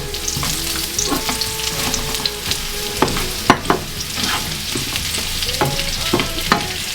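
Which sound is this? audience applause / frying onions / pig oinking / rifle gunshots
frying onions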